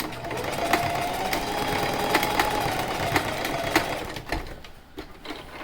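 Sewing machine stitching together a non-fogging surgical mask, a steady close whirring run with small clicks and brief pauses near the end, no talking.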